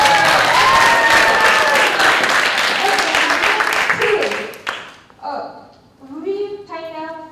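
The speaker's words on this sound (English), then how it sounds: "So clap as loudly as you believe." An audience at a communication skills workshop claps loudly and densely for several seconds, then the applause fades out and a speaker's voice takes over.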